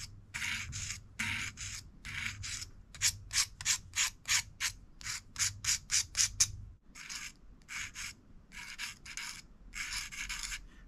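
Rhythmic scraping strokes of sanding on a small folded soda-can metal pen nib, a dozen or so quick rasping passes in bursts, close and fairly loud with brief pauses.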